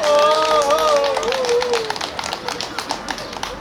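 An audience bursts into scattered, lively clapping at a Teacher's Day celebration performance, following a brief spoken announcement.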